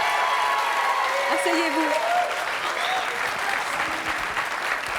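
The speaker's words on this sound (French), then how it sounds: "On peut l'applaudir très fort." Loud, sustained audience applause in a television studio, dense clapping throughout with a voice briefly speaking over it partway through.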